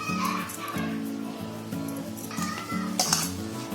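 Mashed potato, carrot, coriander, green chilli, salt and spices mixed and kneaded by hand in a bowl, soft squishing with light clinks of the bowl, under steady background hum and some distant voices.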